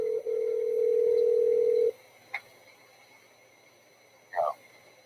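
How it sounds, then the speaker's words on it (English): A steady telephone tone over a speakerphone holds for about two seconds and then cuts off. A faint blip follows, then a short muffled burst, all against near silence. "I'm going to call you on the phone, put you on speakerphone"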